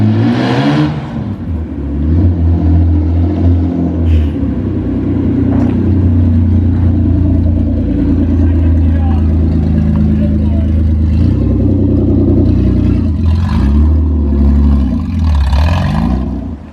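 Continuous heavy engine note from a Toyota MR2 with a swapped-in V6, held loud and near with several rev swells and pitch sweeps, voices talking intermittently on top.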